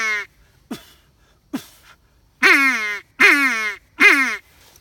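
A duck call blown with a clean cough gives a series of quacks: two quieter short ones, then three loud, raspy, evenly spaced quacks near the end, close and clear with no talking.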